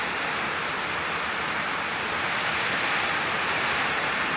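Steady rain falls heavily in Thailand, a dense, even hiss that stays constant throughout, with no other sounds coming through.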